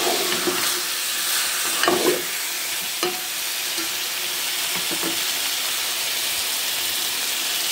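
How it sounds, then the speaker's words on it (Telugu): Bottle gourd pieces mixed with salt and chili fry in a pan, giving a steady, moderately loud sizzle broken by a few sharp stirring scrapes. "ఫ్రై చేసుకున్న ఆనపకాయ ముక్కలు ఇందులో వేసుకుని ఫ్రై చేసుకుందాం."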